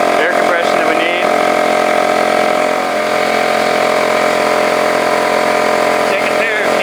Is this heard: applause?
no